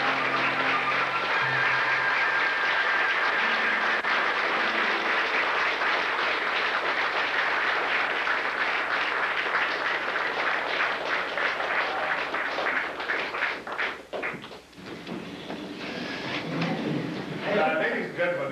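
A full house applauding to welcome Tom Baker in New Zealand in 1997, long dense clapping that holds steady for most of the stretch, thins briefly near the end, then swells again.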